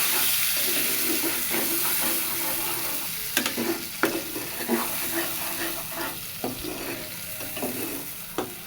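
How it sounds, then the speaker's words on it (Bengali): Onion, garlic, cumin, dried chili and salt fry in a pan with a steady close sizzle, broken by scraping stir strokes and soft clacks, no talk. "পেঁয়াজ রসুন জিরে শুকনো মরিচ লবণ হলো দিয়ে কষায় নেব"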